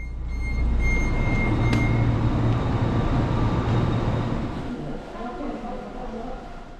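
A KTX train pulls into Yeongdeok station in Gyeongbuk after a run along mountains and sea, its loud, steady rail rumble easing and fading as it slows to a stop.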